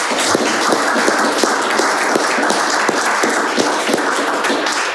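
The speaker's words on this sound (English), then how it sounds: "Can we get a round of applause?" Audience applause closing a business fireside chat, loud sustained clapping from a full room at a steady level with no talking over it.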